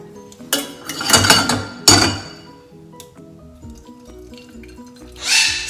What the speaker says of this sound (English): I'm going to strain it into a different pot so that I can put that on the stove